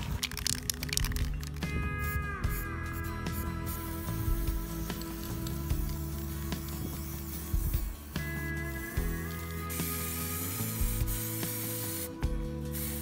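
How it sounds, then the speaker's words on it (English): Aerosol spray painting of Volvo Penta TMD22 marine diesel engine parts in Volvo green: steady hissing bursts close by, with short breaks and rattling, clicking handling noises between them. "I'm going to give them a spray down with"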